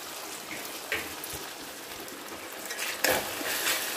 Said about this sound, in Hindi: चावल को हम तेल में फ्राई करेंगे, जिसमें मैंने चावल डाल दिए हैं।